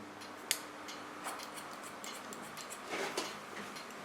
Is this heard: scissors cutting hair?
yes